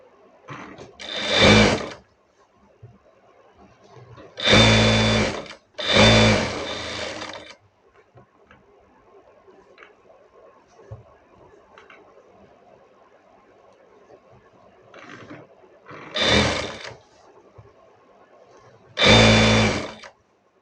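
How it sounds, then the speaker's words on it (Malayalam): A sewing machine stitches the folded-under hem of the lining for a V-collar kurti, running in short bursts of one to two seconds, separated by quiet pauses, with a faint background hum between runs. "ലൈനിങ്ങിൻ്റെ അടിവശം മടക്കി തയ്ക്കാം."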